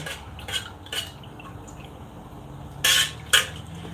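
A spoon stirs melting candle wax in a pot, giving a few scattered clinks and scrapes against the metal, with two sharper knocks near the end over a low, quiet background.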